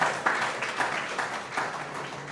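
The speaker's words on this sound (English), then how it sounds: "Come on, give yourself a round of applause again." A conference audience at a summit applauds, many hands clapping in a steady, moderately loud wash that runs through the whole stretch, with a few sharper claps standing out.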